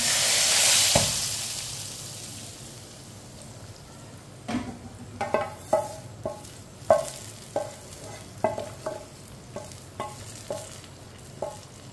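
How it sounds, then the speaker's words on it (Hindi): A loud hissing sizzle bursts out as hot tempering hits masoor (red lentil) dal, fading away, followed by a series of rhythmic stirring scrapes. "तड़का हम दाल में डालेंगे।"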